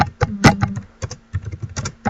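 Typing on a computer keyboard while working in subtitle-editing software, with irregular bursts of close, crisp key clicks, quick runs separated by short pauses.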